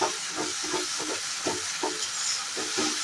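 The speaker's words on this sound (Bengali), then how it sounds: "মশলার যে পেস্টটা সেটা কিন্তু এখানে তেলের মধ্যে দিয়ে দিয়েছি। এবার এটা একটু ভাজা ভাজা হবে" Spice paste frying in oil, a steady sizzle under soft, regular spatula strokes about twice a second, close and moderately loud, with no voices.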